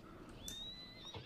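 A horse in the Red Dead Redemption video game gives a short, fairly faint whinny with a rising then falling pitch that lasts about a second, with a low background rumble underneath.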